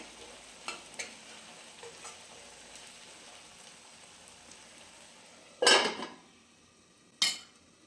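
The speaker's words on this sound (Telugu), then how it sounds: "పేస్ట్ అంతా దగ్గర అయ్యే వరకు బాగా మగ్గబెట్టుకోవాలి" Onion paste thickens in a pan with a soft sizzle and light scraping of the spoon, then two loud, close stirring scrapes stand out near the end. No one speaks.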